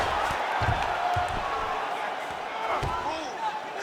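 A video-game UFC 5 arena crowd murmurs and swells in a continuous wash under thumping impact sounds from a ground strike, with commentary talking over it.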